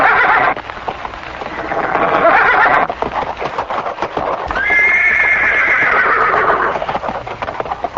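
Keshi, a horse demon in a Bhagavatam story, neighs and whinnies loudly and repeatedly over galloping hooves and a rough, noisy background, with one long shrill whinny rising near the end and no speech.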